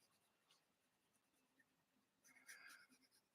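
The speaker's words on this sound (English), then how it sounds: "I can even make hard black lines" Pencil dragged firmly across paper to draw hard black lines, faint scratchy strokes building to a clearer burst of scraping near the end, quiet and close, with no talking.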